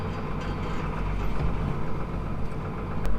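Case Maxxum tractor with almost 6,000 hours on it, its diesel engine idling in a steady low rumble, close and continuous with no talk.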